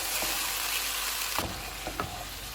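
Marinated chicken fries over a medium flame for BBQ rice, a steady soft sizzle broken by a few brief stirring knocks.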